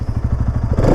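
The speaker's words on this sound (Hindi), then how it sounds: "और यहाँ पे एक बार मैं एग्जॉस्ट साउंड सुना देता हूँ आपको।" A 2024 Bajaj Pulsar NS200 exhaust thumps in a rapid, even idle pulse, loud and close, then rises into a brief rev at the end, with no voices.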